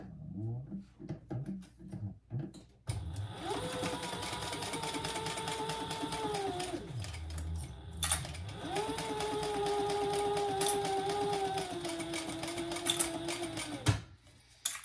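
Sewing machine stitching a seam on a fabric fish pouch with a zipper, starting with a few short bursts and then running in two long, steady whirring runs, close and moderately quiet.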